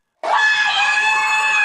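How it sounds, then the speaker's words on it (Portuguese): A woman screams at full force, one sustained, piercing, very loud shriek that starts abruptly after a brief silence and holds steady to the end. "Ironicamente, essa senhora grita a palavra"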